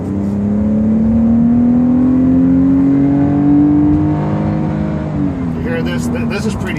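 A BMW 228i or M235i engine pulls onto a highway in comfort mode, its note rising steadily as the car accelerates through a gear, then dropping at a shift, with someone talking over it.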